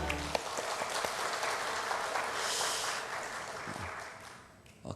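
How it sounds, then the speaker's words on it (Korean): A church congregation applauds together, a broad, even patter of many hands at moderate level that fades slightly toward the end, with a faint sharp knock near the close. "박수하겠습니다."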